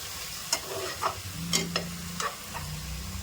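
Vegetables and spices sautéed in a pan for vegetable rice, with a soft frying sizzle broken by several sharp, irregular scrapes and knocks of stirring, close and fairly quiet.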